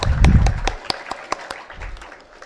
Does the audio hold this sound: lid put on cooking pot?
no